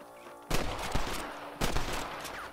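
Sniper gunfire in the Red Dead Redemption video game, a few loud sharp shots in quick succession with ringing tails, close and alone.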